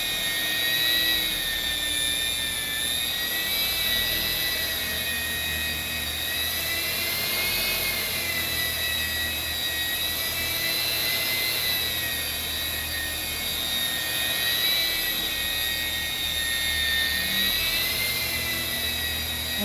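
Powered polishing machine running steadily on a boat's gelcoat during restoration, a constant high-pitched whine with slight rising and falling swells in pitch as pressure and speed change, close and alone for about twenty seconds.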